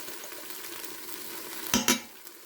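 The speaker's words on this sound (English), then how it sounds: "Again, give that a mix." A spoon stirs cayenne, cumin and spices in a cooking pan over a soft, steady sizzle, with two brief louder scrapes or knocks near the end.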